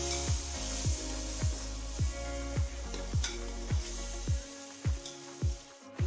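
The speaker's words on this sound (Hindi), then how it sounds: "अब 2 से 3 मिनट तक हम भूनेंगे इसको" Yogurt with biryani masala and spices frying in ghee in a pan, a soft steady sizzle broken by a regular series of stirring scrapes, roughly two per second, close by and without speech.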